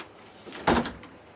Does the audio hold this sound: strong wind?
no